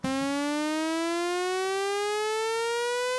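A lone synth tone with a pitch envelope glides steadily upward and stays clean and bright, with rich harmonics and no other sounds.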